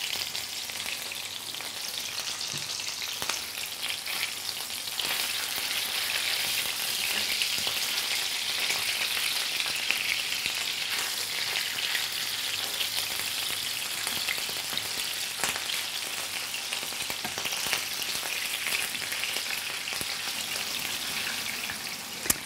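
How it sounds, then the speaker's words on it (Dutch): A steady bubbling, sizzling wash of water at a rolling boil in a pot for potatoes, continuous and fairly close, with no voices over it. "Hey, het water kookt."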